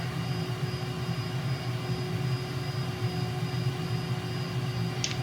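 Steady jet-engine drone of an F/A-18E Super Hornet in Microsoft Flight Simulator over NSW, Australia, a continuous low rumble with a faint tonal whine, constant and unbroken, with no voices.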